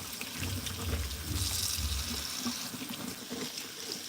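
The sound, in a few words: rinsing shrimp under running tap water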